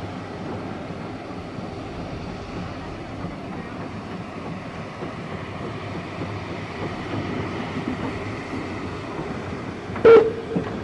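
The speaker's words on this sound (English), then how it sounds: "the two locomotives are united and present a spectacular sight, powering their way up the incline into the station" Continuous heavy rumble of two steam locomotives working hard up an incline into a station on the Keighley and Worth Valley Railway, with a brief sharp whistle-like squeal near the end; no talking.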